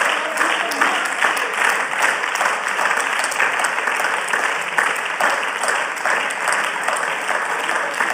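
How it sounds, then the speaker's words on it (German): Applause rings out in the Berlin state parliament during a budget debate, a loud, close burst of many hands clapping with some sharper individual claps standing out, steady throughout. "Applaus"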